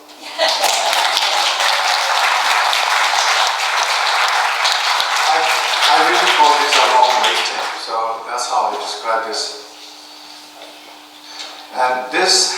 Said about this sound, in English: Give me applause